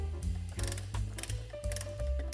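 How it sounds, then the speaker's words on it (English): A hand ratchet clicks as it snugs the lug nuts on a Tesla Model 3 wheel during a tire rotation, a few short bursts of close, quiet mechanical clicking with no talking. "I'm just going to start it now and finish tightening the lug nuts when I put it on the ground."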